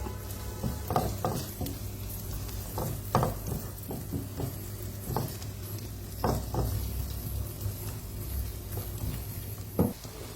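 Half an onion fries in a pan for chicken sisig, a steady sizzle broken by scraping stirs and the clatter of a utensil against the pan, close and continuous with no speech.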